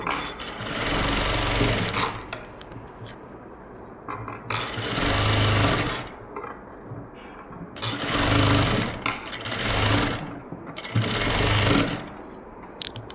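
Sewing machine stitching the neck of a blouse, four loud close bursts of rapid mechanical whirring a couple of seconds each, separated by quieter pauses with faint fabric handling.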